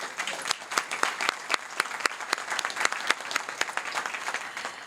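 An audience at a school board meeting applauds steadily, with many sharp individual claps standing out over a continuous patter, moderately loud throughout.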